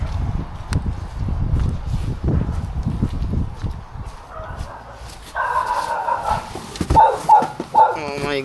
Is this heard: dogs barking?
yes